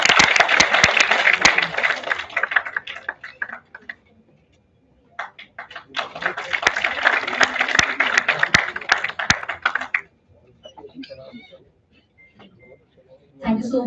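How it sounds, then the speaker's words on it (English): Seminar audience applauding in a hall, two bursts of clapping separated by a short pause, then scattered claps fading out, heard close and fairly loud. "Let's have a huge round of applause for that."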